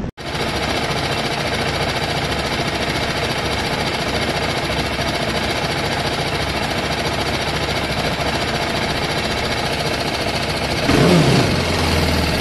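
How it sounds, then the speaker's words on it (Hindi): A TVS Apache RR 310 motorcycle idles on its stock ECU at a low RPM, giving a loud, steady mechanical clatter and hum close by that holds for about eleven seconds before a brief rise near the end. "first of all let me show you the idol RPM before updating the new ECU"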